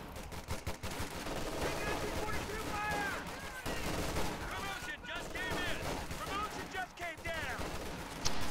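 Rifle and BAR machine gun fire in a World War II strategy video game skirmish against grenadiers, dense overlapping bursts and rattling shots with whistling and impacts, steady and busy throughout under a commentator's talk.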